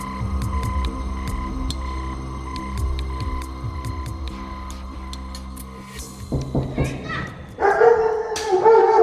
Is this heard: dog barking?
yes